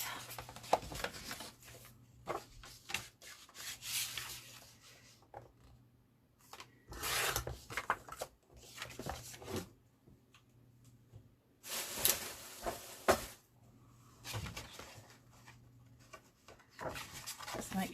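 Board for a mini album being cut down to width with a craft trimmer, heard as bursts of close scraping and rubbing strokes separated by quiet pauses.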